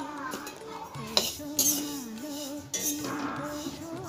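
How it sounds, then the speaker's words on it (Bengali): Sesame seeds dry-roast in a pan in a home kitchen while a utensil stirs them, making metallic clinks and scrapes that come in short bursts under nearby voices talking. "এখানে এখন তিলটা ভাজা হচ্ছে"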